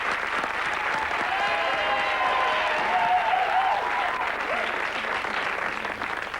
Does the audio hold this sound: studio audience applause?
yes